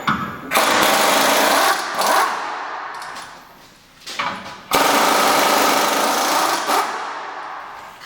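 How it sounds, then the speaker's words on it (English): A power tool, likely an impact wrench, runs in two long sustained bursts with a brief rev between, close and loud, while removing torsion bar bolts on a Chevy 2500 pickup. "we're going to remove both torsion bar bolts fully"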